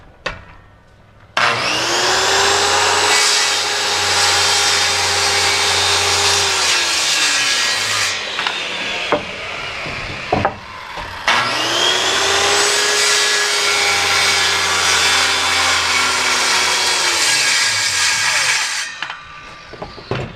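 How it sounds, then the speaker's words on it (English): Power saw ripping a 16-degree bevel through wood for a house ridge cut, two long, loud passes of a whining motor with a grinding cut, each spinning down as it ends, separated by a brief pause. "now we're going to cut at a 16-degree bevel"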